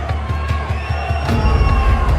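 A boxing crowd at ringside shouts and chants the name Usyk, a dense, rhythmic roar of many voices that swells louder toward the end.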